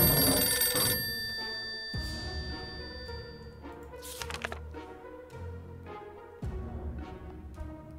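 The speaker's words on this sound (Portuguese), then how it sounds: "Ah, é o telefone, beleza." A telephone rings inside the survival game 60 Seconds, its bell-like tone sounding alone and clear in short repeated bursts over a low game soundtrack.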